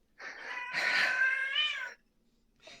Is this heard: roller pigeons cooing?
no